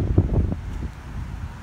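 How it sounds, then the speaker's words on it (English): Wind gusting outdoors near a pond with ducks, buffeting the microphone in low rumbling bursts that settle into a steady, softer rush. "It's a little windy, sorry guys."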